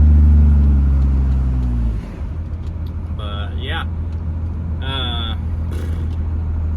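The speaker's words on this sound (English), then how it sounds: "You can hear this thing, it shifts out really good." An old Dodge Cummins diesel pickup drives with a deep, steady rumble, and its low engine drone changes pitch as it shifts up through the gears. Someone speaks briefly over the engine noise.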